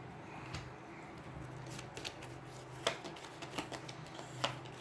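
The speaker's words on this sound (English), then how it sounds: "shuffle all the Nemesis turn order cards back into the turn order deck" Aeons End Nemesis turn order cards are shuffled back into the turn order deck, giving soft riffling and tapping sounds with a few sharper clicks over low background hum.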